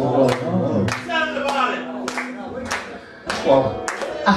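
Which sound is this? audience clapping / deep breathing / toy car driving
audience clapping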